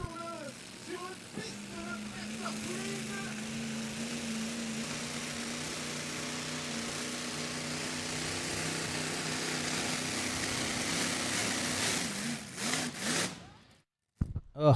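A pulling tractor's engine roars steadily through a run down the track at a tractor pulling event in Bernay, loud and sustained with a droning pitch that shifts slightly, then cuts off abruptly near the end.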